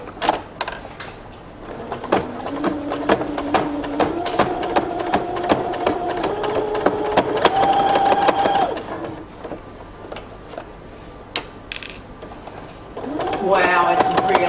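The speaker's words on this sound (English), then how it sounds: "the pant leg is down here, and I'm going to stitch down this side" An electric sewing machine stitches down the side of a pant leg for drawstring pants, its motor whirring in several bursts that rise and fall in speed, with a voice heard now and then.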